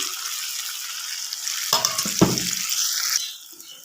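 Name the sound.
boiled peas added to a frying pan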